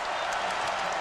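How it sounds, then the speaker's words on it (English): Basketball crowd at an NCAA men's college game, Xavier at Dayton, roaring and applauding in a steady, dense wash of cheers that fills the arena with no break. "And here come the crowd."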